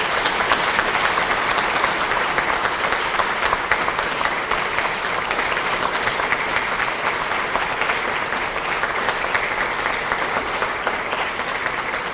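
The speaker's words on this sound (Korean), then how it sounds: "두 분 박수로서 환영해 주시기 바랍니다" Dense, steady applause from a large crowd at a party caucus meeting, welcoming Oh Se-hoon and Ahn Cheol-soo; loud, continuous clapping throughout with no voices over it.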